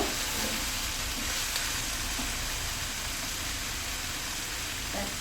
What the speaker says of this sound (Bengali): লতিটা মশলার সাথে ভালো করে কষাই দিব।